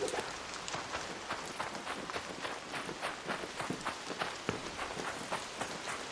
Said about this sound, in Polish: Nawet deszcz jest przyjemny.